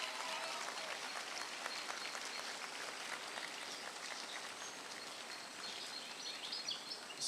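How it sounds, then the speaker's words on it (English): Applause for dancers at a choir opening ceremony, a thick, even patter of many hands that stays steady throughout, heard from some distance, with a few faint whistles. "Can we get one more round of applause for our APAC dancers?"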